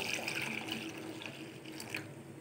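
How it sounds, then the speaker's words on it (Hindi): Cold fridge water poured into a pot of Kashmiri pink tea, a soft continuous splashing pour, close but quiet, with no talking. "इसके अंदर 2 कप ठंडा फ्रिज का पानी डालना है"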